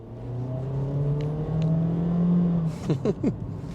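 A Honda HR-V under full-throttle acceleration, heard from inside as a steady engine drone whose pitch climbs gradually, then breaks into a few short irregular bursts near the end.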